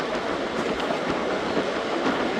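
A Pak Express passenger train running on rails between Lahore and Khanewal, heard loud and close from on board as a continuous rumble with a steady clickety-clack of the wheels over the track joints.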